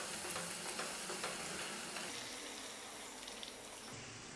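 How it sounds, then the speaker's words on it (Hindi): Puri dough sizzling and frying in hot oil for a vegetarian fasting thali, a steady close crackle with light stirring and pressing, no talk. "तेल गरम हो गया है, अब मैं इसमें पूरी डाल दूँगी और इसको प्रेस करते हुए इसको फूलने दूँगी।"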